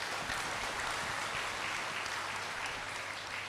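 An audience at a Buddhist dharma talk claps together in a dense, even wash of applause that holds steady for several seconds, with no talk over it.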